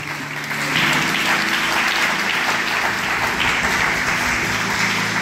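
A church congregation applauding together, a dense, steady wash of clapping that swells in within the first second and holds loud and even to the end, with no voice standing out.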